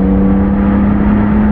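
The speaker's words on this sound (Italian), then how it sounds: "motore 3 cilindri e si sente" Yamaha MT-09 SP 2021 three-cylinder motorcycle running in fourth gear, a steady loud droning engine note with a strong low hum and no talk.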